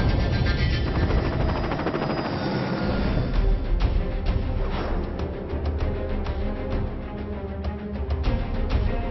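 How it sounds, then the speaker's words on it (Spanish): A rescue helicopter flying on Aconcagua, its rotor and engine producing a steady loud whirring drone with rhythmic blade chop, fairly close and continuous throughout without speech. "Este es el helicóptero de rescate."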